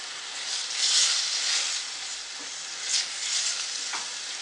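Spices are stirred into a sizzling tajine malsouka filling in a pan, giving a continuous frying hiss that swells in soft bursts with each stir, with no voices.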